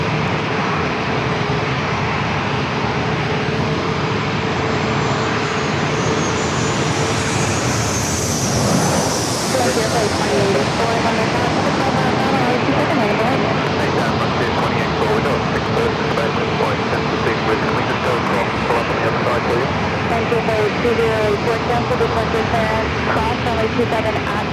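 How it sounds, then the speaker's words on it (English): A Southwest Boeing 737 on short final into San Diego airport roars steadily overhead, with a rising whine near the middle. Radio chatter and a voice talk over the constant engine noise. "already a Southwest 737 short final"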